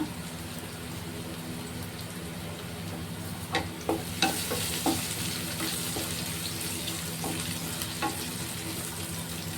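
Asafoetida goes into hot oil for chana masala, and the oil sizzles and crackles steadily in a pan. A few close clinks and stirring sounds come through over the frying hiss.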